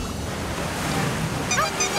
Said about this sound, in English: And here comes a really big wave.